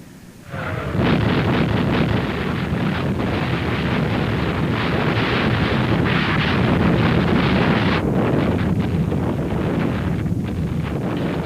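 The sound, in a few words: artillery fire, big guns in the Gulf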